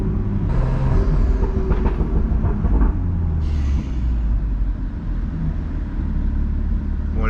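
A BMW M2 fitted with a catless VRSF downpipe roars loudly through narrow little streets, a deep continuous rumbling drone that surges and eases close by, with no talking.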